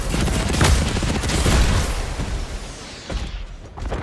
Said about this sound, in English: Keep shooting that shit, keep shooting that shit.